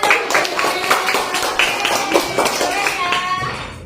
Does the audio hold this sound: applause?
yes